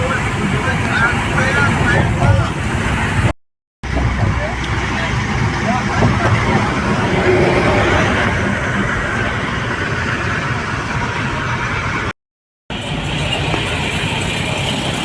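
A car drives along a road from Panaji towards Old Goa, with a steady, loud rumble of engine and road noise inside the cabin that continues throughout under voices.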